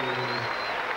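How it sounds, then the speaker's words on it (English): Applause from the crowd at a darts match during the BDO World Championship final, a brief dense wash of clapping that runs steadily for about a second under a faint tonal hum. "applause there from Rachel"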